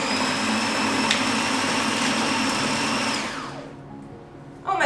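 A blender whirs steadily as it purées a vegan Christmas dinner mixture with liquid smoke, then spins down and cuts out, with a brief clatter at the very end.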